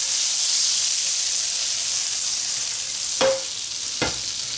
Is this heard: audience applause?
no